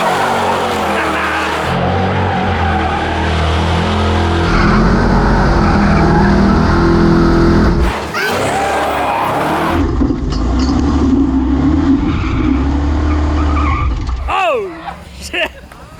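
A Ford Bronco does a loud, sustained burnout in four-wheel drive, with the engine roaring and the tires squealing continuously up close before the noise cuts off abruptly, while voices shout nearby.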